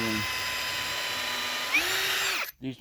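Close, loud power drill whine running steadily while drilling a pilot hole, pitch rising briefly near the end before the motor stops, followed by a moment of quiet.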